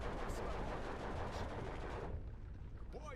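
Infantry guns fire in the WWII strategy game Steel Division 2, a dense roar of gunfire and rumbling explosions that fades partway through.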